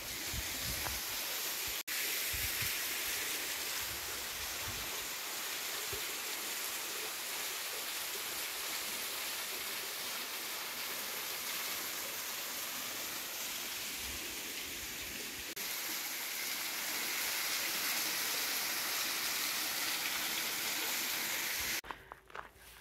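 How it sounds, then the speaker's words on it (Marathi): Small village waterfall in Wallgau, Bavaria, a steady hiss of falling water with little flow, continuous and even, heard alone and fairly faint. "एक अगदी छोटा धबधबा आहे गावातला."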